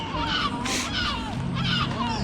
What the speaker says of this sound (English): you can hear the gulls up above.